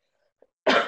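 A single short, loud cough bursts out near the end after near silence, preceded by a tiny faint click; it sounds broadband and close to the microphone.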